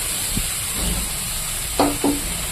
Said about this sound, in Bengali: এখানে কেটে রাখা শাকগুলো এবার আমি দিয়ে দেব